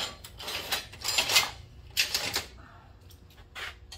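Broad-foot-pad clamps are tightened during seat installation on a 1947 Ford Coupe, giving close, bursty ratcheting clicks and mechanical clatter in several short spurts with quiet gaps between.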